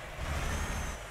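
A truck's air brake hisses in Euro Truck Simulator 2, a brief burst of broadband air rush over a low engine rumble, heard through open windows.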